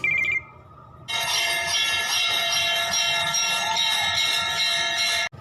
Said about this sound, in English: Object, bells, sound, ring, peal.